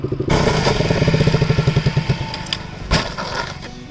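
A motorcycle engine chugs in a loud, close, pulsing rhythm as the rider brakes for a rolling stoppie, the beat slowing and fading with a sharp knock near the end.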